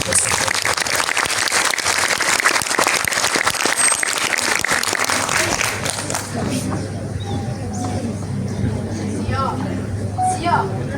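A school audience applauds student performers in a dense, loud burst of clapping that fades after about six seconds, leaving quieter room noise and scattered sounds.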